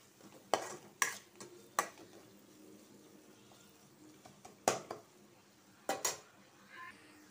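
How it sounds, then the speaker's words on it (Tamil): Spices being sautéed in a pan for an Indian-style macaroni pasta, with faint stirring and a few sharp clinks and taps of a utensil against the pan, quiet and alone. "இதை போட்டு இதை நல்லா நம்ம வதக்கி பச்சை வாசனை போகிற அளவுக்கு நம்ம வதக்கி விட்டுக்கலாம்."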